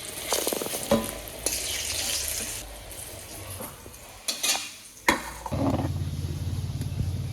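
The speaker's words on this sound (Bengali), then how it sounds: "এখন বেগুন ভাজা বসাইছি।" Brinjal slices fry in a pan during a home family cooking session. A close sizzle runs throughout, broken by a few sharp clatters of utensils, and settles into a steady, louder frying hiss near the end.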